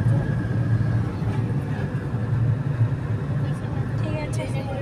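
A car travelling along a road on a long journey, its steady low engine and road rumble running continuously throughout with a faint voice underneath.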